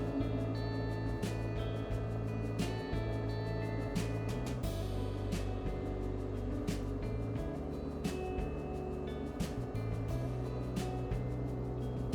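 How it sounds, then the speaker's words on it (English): A tractor with a front end loader and grapple idles up to higher RPM, a steady low engine drone with a faint hum, running alone at moderate volume throughout. "If we raise the throttle or the RPMs up on the tractor"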